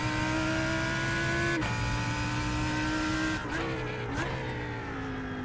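Lamborghini Huracan Evo GT3 race car in the iRacing simulator, a loud sustained engine roar holding high revs with a couple of sharp shifts or lifts, alone and close.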